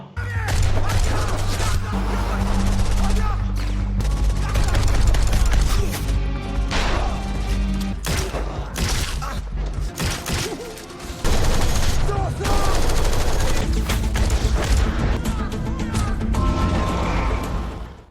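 Dense gunfire from a film battle scene, with rapid bursts, heavy booms and crashes layered together, loud and busy, as a voice narrates over parts of it.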